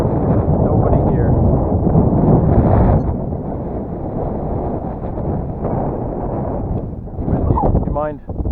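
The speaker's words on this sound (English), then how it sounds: "here we are at the club, and that's what the wind is doing today" Strong, gusty wind roars and buffets the microphone at a model airfield on a wild crosswind day, loud and continuous, with a brief lull near the end.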